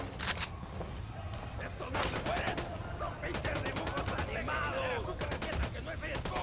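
Rapid bursts of automatic gunfire in the video game Ghost Recon Wildlands, repeated volleys of sharp shots at mid distance over game ambience, with a few voices and radio chatter mixed in.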